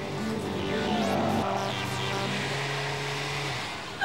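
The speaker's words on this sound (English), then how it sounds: "whilst the ambulance weaves through the slalom course" An ambulance weaving through a slalom course drives close by, its engine note rising and falling steadily under faint tire noise, with no talk.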